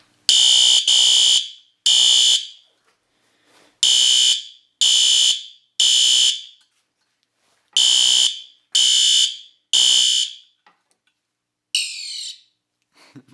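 A System Sensor SpectrAlert Advance fire alarm horn gives loud, harsh buzzing blasts in the three-pulse temporal pattern, each group separated by a pause, heard close up. A last weaker, wavering blast follows as its power dies away.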